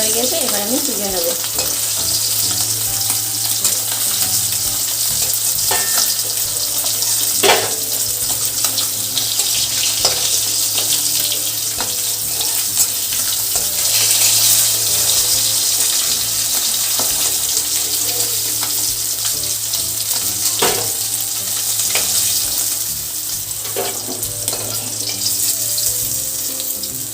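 Fish pieces frying in hot oil in a pan, a loud continuous sizzle and crackle close by with occasional scraping of a spatula, steady throughout.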